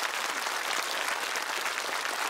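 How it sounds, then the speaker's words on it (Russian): A studio audience claps in dense, even applause that holds steady at full strength throughout. "Вам аплодисменты, прошу вас."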